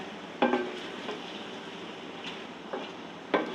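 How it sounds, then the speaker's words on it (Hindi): Chicken frying uncovered in a pan, a steady soft sizzle running throughout with a few sharp stirring clinks and scrapes spaced across the short stretch. "और चिकन को तकरीबन मैं 6 से 7 मिनट भून लूँगी, और बगैर कवर किए भूनूँगी मैं"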